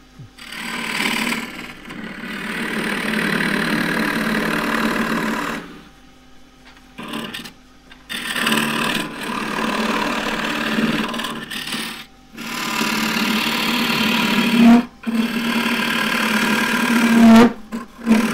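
A lathe tool cuts into a spinning wooden hollow form while it is hollowed, making a loud, continuous close scraping and hissing roar in long bursts that are broken by brief pauses, with no voices.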